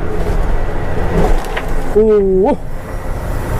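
A Kubota M5-112 tractor reversing during a brake test, its engine rumbling steadily underneath while a nearby voice lets out a short drawn-out exclamation partway through.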